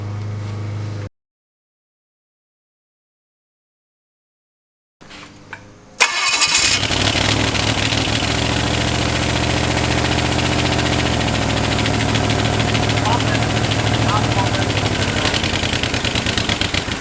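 A Chevy 283 small-block V8 with only one cylinder head fitted idles briefly, falls silent, then cranks and catches and settles into a loud, steady, slightly rough idle that runs to the end.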